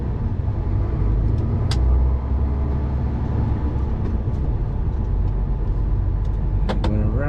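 A car accelerates along a road on a drive from Luton to Wrexham, heard from inside as a loud, steady engine and road drone with a few faint clicks and squeaks.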